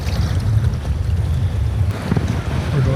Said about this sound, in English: here are the waves coming